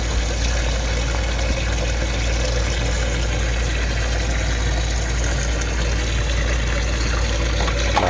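Hot water runs steadily from a tap into a kitchen sink for washing dishes, a loud continuous rushing stream with no break and no talk.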